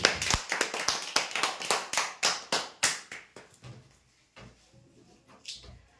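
Applause for a prize winner at a weekly lucky-draw event: a burst of hand claps, loud and fairly sparse at first, each clap distinct, thinning out and fading after about four seconds.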